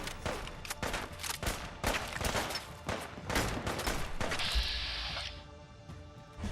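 Gunfire crackles in the Fallout video game as a rapid, uneven string of sharp shots at moderate volume. A brief hissing burst sounds near the end.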